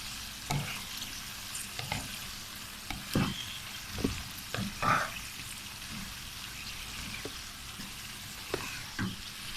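Fried onion being stirred into aloo matar in a pan, a soft gentle sizzle broken by irregular scraping strokes of the spoon, close and quiet with no talking.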